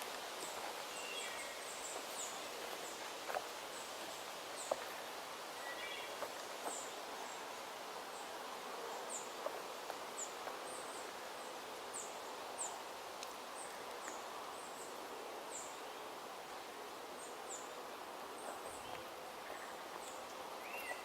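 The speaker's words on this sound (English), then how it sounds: "The wood thrush that's singing sounds like it's that away into the woods" A wood thrush sings in the woods, its short fluting phrases repeating faintly at a distance over a steady, hissy forest ambience.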